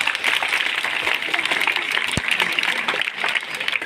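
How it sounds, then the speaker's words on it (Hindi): Audience applause filling an indoor hall at a question-and-answer event, dense steady clapping throughout, loud and close, honoring the winning teams of a competition. "तो एक बार फिर भरपूर तालियां।"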